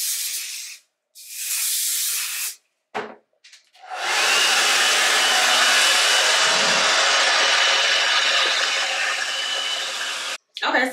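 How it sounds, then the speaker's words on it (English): A hair dryer blows on natural leave-out hair during quick weave preparation. It gives a few short blasts at first, then a steady loud whooshing airflow held close for about six seconds before it cuts off. "then I'm going to blow dry it to make sure everything is dry"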